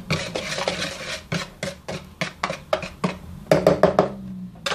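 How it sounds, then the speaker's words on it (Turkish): Spoon stirring a flour mixture with black pepper and thyme in a bowl, a loud run of rhythmic scraping and knocking strokes close by with no talk. "Güzelce karıştıralım."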